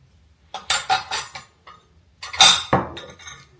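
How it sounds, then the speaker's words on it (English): A utensil stirs apple scrap vinegar in a glass jar, giving two bursts of bright clinks and scrapes against the glass. The sound is close and clear with short pauses between strokes. "I'll just give it a little bit of just a stir"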